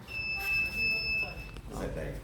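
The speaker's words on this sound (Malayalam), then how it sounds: "അപ്പോൾ കഴിഞ്ഞാൽ ഇങ്ങനെ ഒരു അലാറം വരും ടൈം കഴിഞ്ഞാൽ" The timer alarm of a tyre resoling machine beeps in a steady high-pitched electronic tone for just over a second, close and clear, with a brief voice and some room noise.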